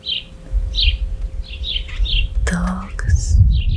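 Small birds chirp repeatedly at a distance over a low rumbling background, with a brief rustle or whispery noise partway through.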